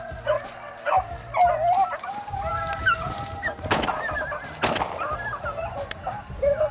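A pack of hunting dogs bays and yelps continuously in a swamp while chasing a rabbit, several voices overlapping at mid distance with rising, whining howls and a couple of sharper bursts.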